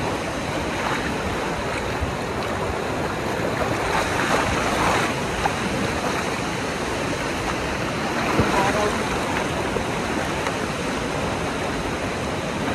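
Rushing water at Kaparkan Falls in Abra, a continuous loud roar of churning river waves and falling water, broadband and steady throughout with no break.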